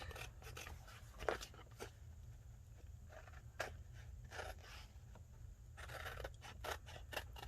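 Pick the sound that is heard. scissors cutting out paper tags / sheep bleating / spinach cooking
scissors cutting out paper tags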